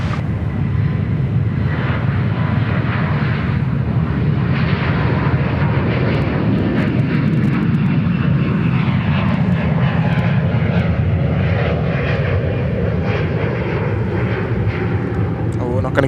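An Air New Zealand Airbus A340 jet taking off at Sydney Airport, a loud, steady engine roar that holds throughout, with people talking over it.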